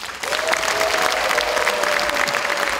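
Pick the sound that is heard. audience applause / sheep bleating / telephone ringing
audience applause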